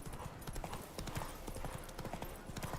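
Roach the horse trots in Witcher 3, a quick, steady clip-clop of hooves close up, layered with in-game ambience and occasional faint background sounds.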